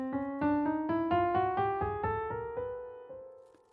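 A twelve-tone row played as a musical example, a run of single distinct notes stepping upward at a steady pace before fading out, heard alone with no talk.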